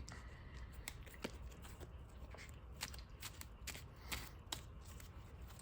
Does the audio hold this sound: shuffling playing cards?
yes